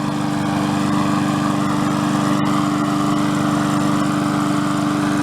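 A free Columbia push lawn mower, needing an oil change and blade sharpening, runs steadily up close with an even, droning engine hum and no talk.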